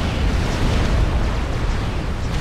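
Scorcher bomber fire erupts in Supreme Commander Forged Alliance as a dense, continuous rumble of explosions that sits loud and even throughout, with no voices over it.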